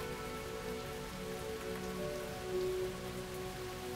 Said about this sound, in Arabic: المطر عم ينزل